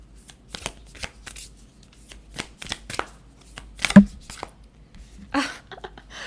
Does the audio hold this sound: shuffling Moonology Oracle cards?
yes